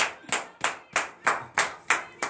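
Rhythmic group clapping in acclamation during a morning prayer service in Benin, eight evenly spaced sharp claps in quick succession, fairly close and alone without speech.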